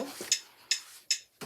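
Sharp metronome clicks tick quarter notes at 152 BPM, about four in a row, bright and close.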